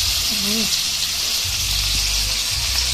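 Fried chicken cooking in a covered pan gives off a steady, close, bright sizzling hiss, with faint low clinks and bubbling underneath throughout.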